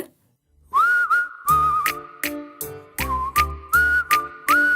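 A person whistles a bright melodic tune alone over a backing track with regular percussive hits, the whistle clear and close, rising and holding notes across several phrases.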